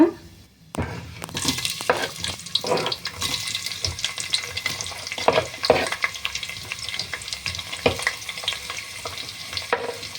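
Onion and green chilli fry in a pan for tomato bath, a continuous crackling sizzle punctuated by repeated scraping stirs of a spoon against the pan, close and moderately loud.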